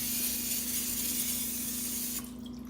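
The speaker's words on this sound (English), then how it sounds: "you're going to start by spraying it with some cooking spray" A steady, hissing spray of cooking spray runs for a couple of seconds under a constant low hum, then cuts off abruptly, leaving only the hum.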